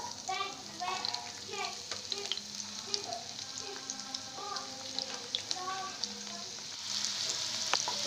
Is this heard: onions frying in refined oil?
yes